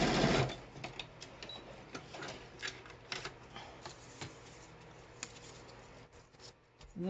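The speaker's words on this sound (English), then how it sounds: "I'm gonna zip this on the sewing machine." A sewing machine stitches lace onto a cardboard embellishment, a close rapid mechanical whirring in several bursts with short pauses and a few light clicks between runs.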